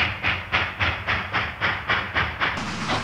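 A Reading Mallet steam locomotive working a heavy coal train, with loud, regular chuffing exhaust beats in a steady rhythm about every half second over a low rumbling background, close and unaccompanied by voices.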